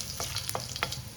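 Two or three dried red chillies crackle and sizzle in a spoonful of hot oil in a kadai just used for roasting semolina, with a steady hiss and scattered sharp pops as they are stirred.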